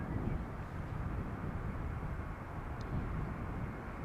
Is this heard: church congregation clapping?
no